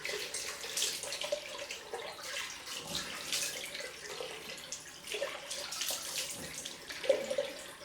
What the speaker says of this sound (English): Oh, lovely cold water on the head.